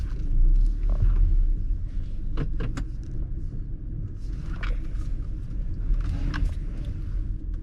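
A car pulling slowly into its parking spot in an office lot: a low, steady engine and road rumble close by, with a few brief clicks and knocks along the way.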